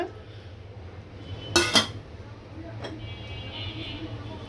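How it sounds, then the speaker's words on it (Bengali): Meat dropped into a kadai, heard as a short loud clatter of pieces hitting the metal pan, followed by a faint clink, over a low steady hum. "একটা কড়াইতে মাংস দিয়ে দিচ্ছি"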